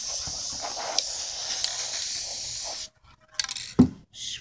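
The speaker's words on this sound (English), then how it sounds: "Spray paint it again." Spray paint can hissing as it coats an egg, a continuous spray for nearly three seconds, then silence and a few short bursts and handling noises.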